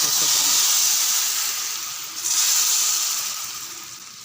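A steady, loud hiss of steam and bubbling from a pot of fish curry boiling vigorously, continuing without pause and easing slightly toward the end.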